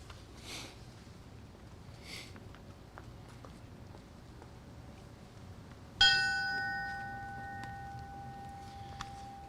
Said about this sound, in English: Ringing the bell will be his granddaughter, Eileen